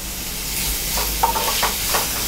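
Onions sautéing in a pan for a prawn pepper masala, a steady close sizzle with a few soft stirring scrapes and bubbling pops, no voices.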